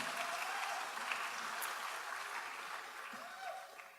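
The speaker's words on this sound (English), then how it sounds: "we'd like to give you a round of applause as well." Audience applause at the Sullivan Renaissance awards ceremony, a steady sustained clapping from a room of people that holds for a few seconds and then begins to thin out, with a faint chuckle or voice underneath.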